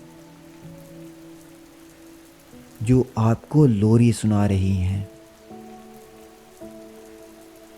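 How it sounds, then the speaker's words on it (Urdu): Light rain falls outside as a steady, soft patter throughout, and a calm voice briefly speaks over it in the middle. "باہر بارش کی ہلکی بوندیں گر رہی ہیں"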